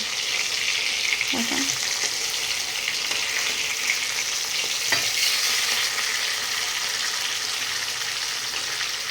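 Fish pieces frying in a pan of oil, a steady nearby sizzle with a couple of spatula scrapes and turns breaking through, no talking.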